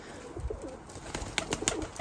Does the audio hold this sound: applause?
no